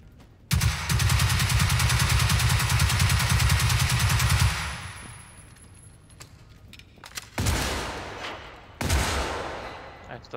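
Video game gunfire in Generation Zero: a dense, loud automatic burst runs for about four seconds, then trails into quieter clatter before two shorter, sharp bursts close it out.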